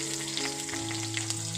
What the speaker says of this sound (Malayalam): ഇനി നമുക്ക് അതിനകത്തേക്ക് ഇട്ട് കൊടുക്കുന്നത് നമ്മൾ ചെറുതായിട്ട് അരിഞ്ഞ് വെച്ചിരിക്കുന്ന കൊച്ചുള്ളിയാണ്.